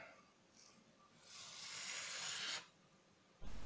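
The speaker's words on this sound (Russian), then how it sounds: "и режем на полоски." A kitchen sponge with a blue foam layer is cut into strips, giving a soft, close rasping cut of about a second, then a short scrape at the end.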